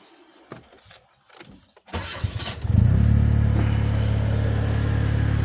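A car engine cranks and catches, then settles into a loud, steady idle rumble with the electric radiator fan whirring continuously alongside it.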